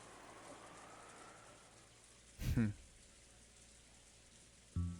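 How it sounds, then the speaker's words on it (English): Steady wind and rain ambience from the video game Umineko: When They Cry, a soft continuous patter of rainfall running throughout, broken midway by a short louder thump and another near the end. "The silence between the two was filled by the sound of the wind and rain."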